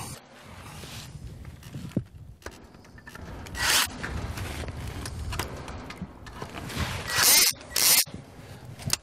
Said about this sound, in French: je reprends la visseuse et je fixe définitivement ma crémaillère